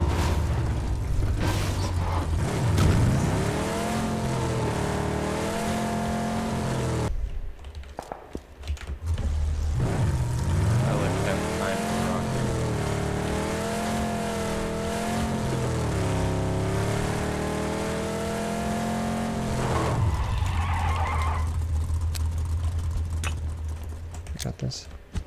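Engine of a vehicle in a shooter video game droning steadily under game sounds, pitch rising and falling as it drives and accelerates, with a gap midway; people talk over it.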